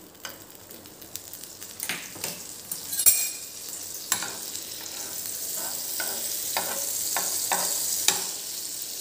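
Pav toasts in butter on a pan for wafer pav, a close, steady sizzle that builds and settles, broken by several sharp clicks and scrapes from turning the bread.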